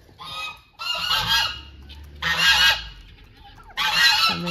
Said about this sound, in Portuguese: Os gansos.